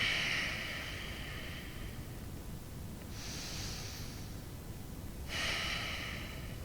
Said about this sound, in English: always coming back to that slow, controlled breathing in and out of the nose